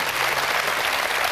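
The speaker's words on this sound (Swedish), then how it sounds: "En applåd." Studio audience applause on the Swedish quiz show Vem vill bli miljonär?, a steady, dense wash of clapping at even loudness, with no voices over it.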